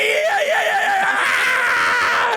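A voice imitates an Indian street fruit vendor screaming while chopping melons: one loud, sustained, wavering cry held close and strained, with no break.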